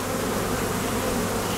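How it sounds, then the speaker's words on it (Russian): Honey bees buzz steadily and closely around a heavy hive frame during a swarm transfer from a trap into a hive, a dense continuous drone with no voices. "Вот пчела с пыльцой."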